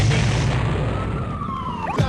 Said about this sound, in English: Grand Theft Auto 2 gives you squealing tyres, wailing sirens and burning rubber in one gang-infested driver.